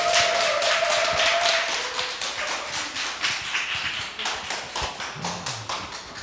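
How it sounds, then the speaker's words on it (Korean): An audience applauds to welcome a lecturer at a school admissions talk, a small crowd's clapping, loud at first and then thinning into scattered, uneven claps. "뜨거운 박수로 강의 부탁드리겠습니다."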